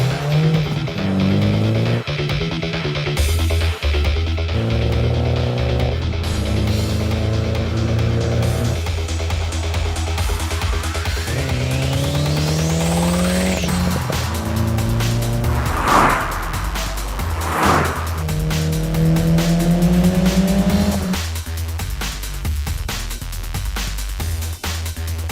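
A 2019 MINI John Cooper Works driven hard on the Madras Motor Sports racing track, its engine droning loudly and climbing through gears, with rising revs, shifts and brief tire squeals, close and continuous throughout.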